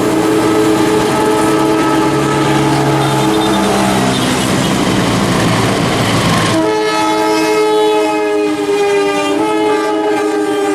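A locomotive rumbles past loudly and up close, its horn blaring in long sustained tones over the steady roar of the wheels.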